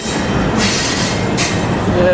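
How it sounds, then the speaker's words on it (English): A double-stack freight train on the Portland to Alliance, Texas route rolls past close by, a continuous loud rumble broken by rhythmic bursts of wheel clatter over rail joints. "This is the Portland to Alliance, Texas double stack train coming through here."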